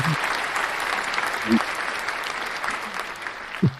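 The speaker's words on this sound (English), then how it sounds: "Round of applause" A studio audience gives a round of applause on a sports radio show, steady dense clapping throughout with a couple of brief low bumps.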